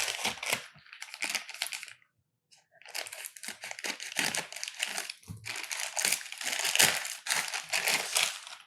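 Crinkly packaging torn and handled while a TVS Racing balaclava box is opened, with close rustling and crumpling in bursts and one short silent pause.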